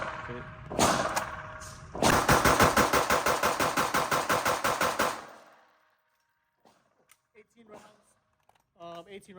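A Glock 17 fired with Blazer aluminum ammunition: one loud shot, a short pause, then a rapid string of about a dozen evenly spaced close shots that stops abruptly, followed by quiet and a few faint clicks and a brief voice.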